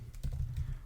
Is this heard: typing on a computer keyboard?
yes